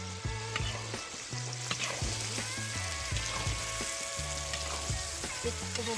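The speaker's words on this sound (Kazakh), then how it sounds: "Ет қызыл болғанша артынан қуырып аламыз." Meat frying for kuyrdak, a Kazakh fried meat dish, sizzling steadily close by, with intermittent low scraping and stirring strokes against the pan throughout.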